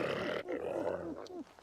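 A voice imitates a wolf, making a series of low, wavering whimpers and whines, fairly close and continuous.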